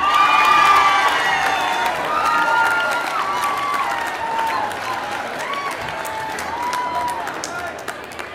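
A graduation crowd at the 2009 USC Annenberg School for Communication commencement applauds and cheers for the graduating class, dense sustained clapping with whoops and shouts from a large audience, steady and loud throughout.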